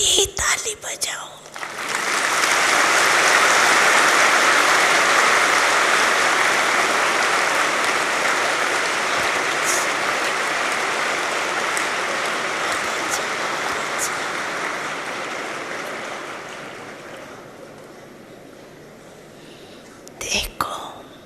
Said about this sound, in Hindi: अपने आप के लिए ही ताली बजाओ।